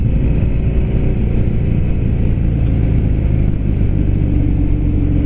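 A 2018 Harley-Davidson Fat Bob V-twin rumbles loud and close as it pulls away in first gear. The deep, throbbing engine note holds steady throughout the run.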